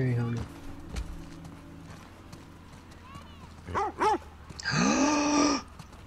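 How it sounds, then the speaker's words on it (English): Dogs in The Last of Us Part II video game give a couple of short barks, then a longer drawn-out bark or whine near the end over a low ambient hum. "They got dogs!"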